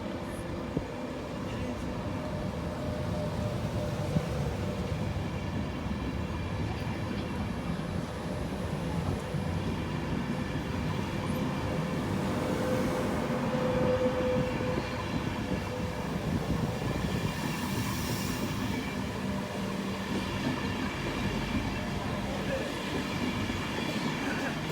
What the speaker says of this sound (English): Now passing by is an LNER service, London King's Cross.